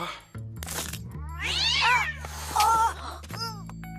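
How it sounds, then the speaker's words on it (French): A cat in a hallway meows several times, drawn-out and wavering, over a low electrical hum. "Je crois qu'il y a du bruit dans le couloir. Ça doit être juste le chat."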